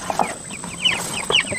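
Meat chickens in a brooder clucking and cheeping, with several short, close calls overlapping in quick bursts.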